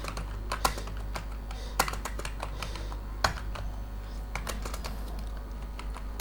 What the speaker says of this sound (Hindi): ये मैं टाइपिंग कंप्लीट कर लूँ